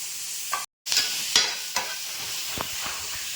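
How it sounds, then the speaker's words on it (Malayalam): Sliced onions sautéing and being stirred in a pan for a prawn roast with coconut and mango: a soft steady sizzle broken by a few scraping stirs and brief clinks, close and fairly quiet. "ഉള്ളി നന്നായിട്ട് വഴട്ടണം"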